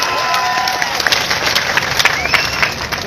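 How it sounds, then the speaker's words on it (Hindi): Audience applause at a political rally in Sheohar, a loud crowd clapping and cheering together, dense and close with sharp claps standing out over the noise. "जोरदार तालियां बजाइए।"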